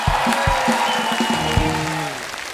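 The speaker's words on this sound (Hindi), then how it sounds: "एक बार फिर से जोरदार तालियां हो जाएं।" A studio audience at a comedy talk show claps in a short, lively burst of applause that tapers off slightly, heard alone without speech.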